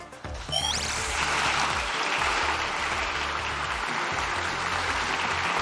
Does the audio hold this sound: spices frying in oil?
no